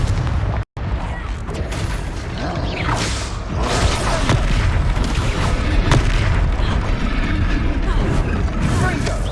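Confringo blasting spell explosions in Hogwarts Legacy: loud, repeated booming blasts over a dense battle din, with a character's voice shouting over them.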